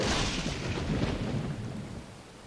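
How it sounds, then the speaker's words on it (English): A thunderstorm in the survival strategy game Dawn of Man rolls through, a loud, broad rumble of thunder over rain that slowly fades. "Storms get kind of loud."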